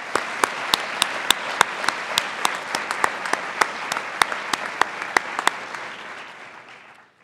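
A large audience at a university awards ceremony applauds steadily, dense clapping with a few sharper claps standing out, fading near the end.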